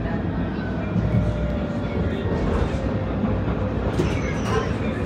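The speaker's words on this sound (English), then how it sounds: "so we just got off the tram" Steady rumble of a tram in motion, heard from on board, with continuous wheel and rail noise and a constant low drone throughout.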